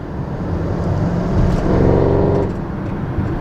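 A modified 2018 Audi RS7 running on E85 shifts through its gears in dynamic mode with valves closed, a loud, close, steady engine drone that swells briefly then settles, with no speech.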